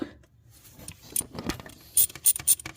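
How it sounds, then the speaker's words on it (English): Metallic ratchet clicks and light taps as a 10 mm sensor bolt is loosened on a 2008-or-later Dodge Caliber 2.0L engine, starting sparse and quiet, then a few louder clicking bursts toward the end. "So let's take out that 10 mil bolt and let's pull it out."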